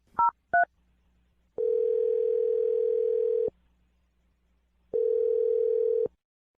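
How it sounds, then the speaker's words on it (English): A phone call being placed: two short touch-tone dialing beeps, then two long steady ringback tones separated by a pause, clear and alone. "We're about to dial his phone number."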